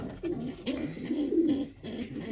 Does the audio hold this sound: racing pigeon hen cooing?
yes